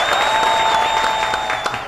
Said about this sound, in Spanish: fuerte aplauso a mi querido José